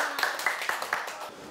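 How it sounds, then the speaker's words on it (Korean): Scattered hand claps from a small lecture audience welcoming a speaker, fairly faint and brief, with uneven rhythm fading out over a second or so. "큰 박수로 맞이해 주세요"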